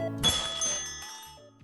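A shop doorbell chimes in the game The Willowmist Emporium of Antiques and Curiosities, a single bright ringing strike that rings out and slowly decays, alone without speech.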